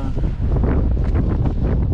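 Strong wind roars and buffets the microphone in a constant low rumble, with gusts swelling and fading throughout, at 1100 metres altitude in Spain.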